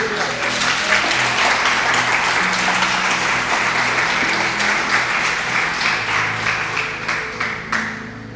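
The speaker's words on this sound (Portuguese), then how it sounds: "Diz aleluia e dá um aplauso ao Senhor Jesus." A church congregation applauds in a sustained burst of many hands clapping together, dense and loud in a large room, tapering off toward the end.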